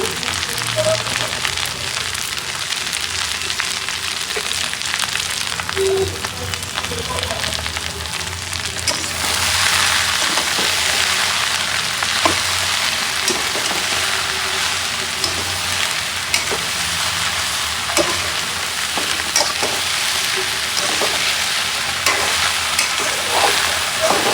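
Sliced okra (bhindi) fries in oil in a pan while being stirred, a steady close sizzle with scraping stirs for a Bangladeshi iftar bhindi bhaji, continuous and fairly loud with no talk.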